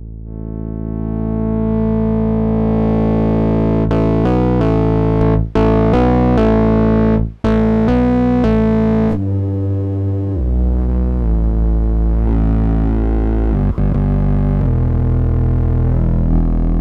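Guitar distortion pedal run through a synth-style sound design setup, sustained gritty tones with shifting pitched notes, brief gaps and swelling noisy texture, loud and continuous without talk.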